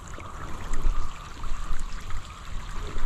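A thin stream of running water trickles steadily, with low rumbling and splashing bursts rising and falling throughout.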